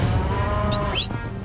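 Cattle that are not used to horses moo as cowboys herd them across a field in Alabama. The low, drawn-out lowing sits under constant outdoor noise and rustling.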